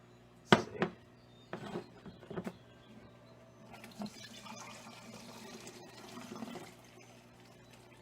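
Lemon balm syrup pours into a strainer bag in a few sloshing splashes and trickles. Clunks and rustles are mixed in, and the pour settles into a softer liquid run.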